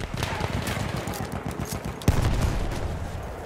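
Enemy machine gun in the Battlefield 1 battlefield, hammering out rapid, steady bursts of fire with one sharp, louder crack partway through, over a dense wartime din with faint voices.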